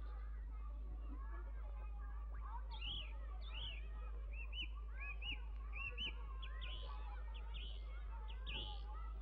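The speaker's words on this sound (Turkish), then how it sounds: "Minnacık bir kuş." Tiny bird gives rapid high chirps and tweets in a scattered flurry, fairly faint over a low steady hum in a Turkish film scene, with no clear speech.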